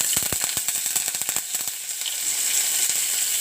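Curry leaves crackling in hot oil for a tempering that also holds mustard seeds and cumin, with a quick run of sharp pops and spatters at first that settle into a steady close sizzle.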